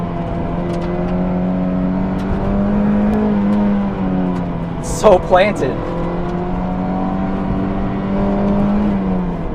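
Mazda MX-5 with a 2-liter engine accelerating hard in second gear, a steady rising engine drone heard from inside the car, with a brief burst of a voice partway through.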